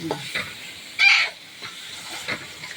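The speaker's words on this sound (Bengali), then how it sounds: "মাছের মুড়োগুলো দিয়ে কষিয়ে নিচ্ছে বন্ধুরা" Fish heads sautéing in a pan for a Bengali dal and greens dish give off a steady frying hiss, with a louder burst of sizzle and a few stirring scrapes.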